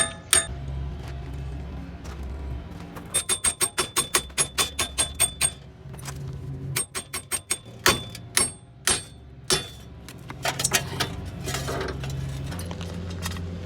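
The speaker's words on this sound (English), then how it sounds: "Remove the hub from the knuckle using a hammer. Try hitting the edges to free it up from the spindle." A hammer strikes the edges of a wheel hub on a Nissan Juke to free it from the spindle, giving a long series of sharp metallic clanks in uneven bursts, some quick and some spaced apart, with no speech.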